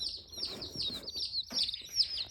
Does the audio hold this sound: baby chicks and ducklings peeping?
yes